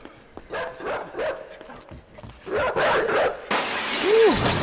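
Dog barking in the video game Inside, a few sharp barks at moderate distance among game sounds, followed by a loud crashing, shattering impact.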